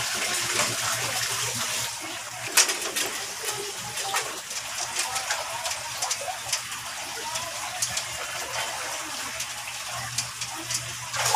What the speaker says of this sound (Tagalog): Ipapump na po natin yung tubig guys para mas mabilis.